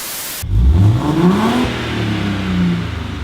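Car engine revving through a newly fitted exhaust, a sudden loud start and then a rising, falling rev that holds a deep, rumbling idle, close and alone.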